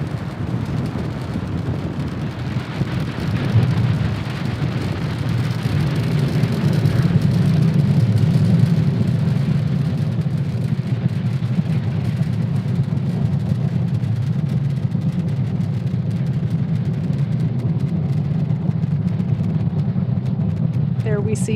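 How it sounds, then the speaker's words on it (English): A SpaceX Falcon 9 rocket climbs away from Cape Canaveral Space Force Station, a loud, steady low rumble with broadband roar holding for the whole stretch, somewhat wind-buffeted. "There we see Falcon 9 has successfully lifted off from Cape Canaveral Space Force Station"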